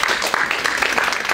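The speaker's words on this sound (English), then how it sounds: "I want us just all to stand and just give her a round of applause for stepping" Audience applause for a singer at the launch of her Wonderland Foundation: dense, steady clapping from a crowd, loud and continuous through a brief moment.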